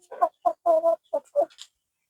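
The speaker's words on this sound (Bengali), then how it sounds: "দেখুন একটু টাইগার মুরগি, এটা হচ্ছে মোরগ, কি সুন্দর মুরগি।" A Tiger breed chicken clucks in a short run of about six close, distinct clucks on a poultry farm, then falls silent.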